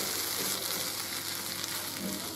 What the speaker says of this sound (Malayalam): ഇനി നമുക്കിതെല്ലാം കൂടി ഒന്ന് നല്ലോണം മിക്സ് ചെയ്ത് കൊടുക്കണം.